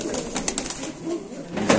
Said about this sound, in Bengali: তো দর্শক এখানে আছে নান কবুতর, আমরা একটু সামনে দেখাচ্ছি